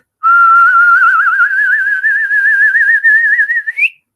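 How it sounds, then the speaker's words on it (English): A person whistles one long, loud, wavering tone that slowly rises in pitch and ends with a brief upward flick, with no other sound around it. "It's because my whistle wasn't on point."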